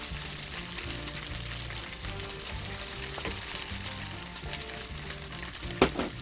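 Shishito peppers and anchovies stir-frying in sesame oil over low heat, a dense, steady crackling sizzle close by, with a brief utensil scrape near the end.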